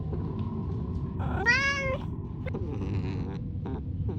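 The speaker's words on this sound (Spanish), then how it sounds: "Claramente el maullido me era familiar." A single cat lets out one clear, drawn-out meow over a steady low background rumble, followed by a few faint shorter chirps, fairly close with no speech.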